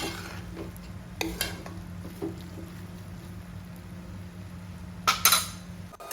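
Chickpeas being stir-roasted in a pan for kadala roast, a steady low hum underneath with a few scraping clinks of a spoon against the pan, ending in a brighter burst of metallic stirring.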